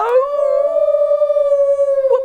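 Several children's voices imitate drawn-out dog howls together in a steady sustained wail, loud and close, with no other sounds.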